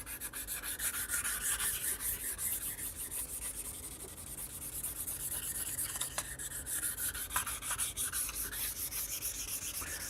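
A bass guitar body being smoothed by hand-rubbing, with a continuous close, soft abrasive scratching in quick back-and-forth strokes. The sound is fairly quiet and heard alone.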